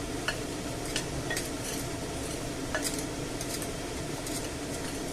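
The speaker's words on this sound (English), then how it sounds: "So next I'm going to add the frozen seafood. Just chuck it all in there." Frozen seafood is tipped into a paella pan and stirred, giving a continuous wet sizzle with scraping, clinking utensil taps scattered through it and no talking.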